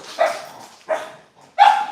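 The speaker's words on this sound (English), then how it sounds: "Our dog's freaking out." A pet dog barks three times indoors, loud and close, with sharp yelping barks spaced unevenly about two-thirds of a second apart and quiet gaps between.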